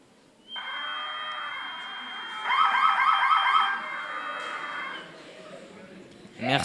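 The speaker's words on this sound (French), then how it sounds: "On peut aussi amplifier le son du buzzer." Amplified buzzer from a student Arduino robotics project gives a loud, steady electronic tone that rises in pitch midway and warbles briefly, then cuts off, with faint room noise around it.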